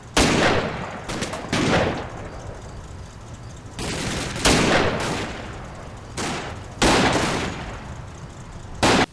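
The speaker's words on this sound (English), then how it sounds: "our sniper is engaged by enemy forces in the forest ahead, and a sniper duel ensues" Gunfire from a sniper duel in a forest in the Combat Mission: Red Thunder war game: several loud, sharp rifle cracks in irregular succession, some in quick pairs, each trailing a short echoing tail over quiet between shots.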